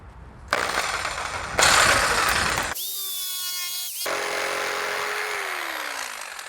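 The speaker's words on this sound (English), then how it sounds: "for this next cut, I'm actually going to use the jigsaw" A jigsaw cutting a narrow sliver of COREtec LVT floating floor plank during a bathroom installation, loud close buzzing in two bursts, then a whining motor winding down.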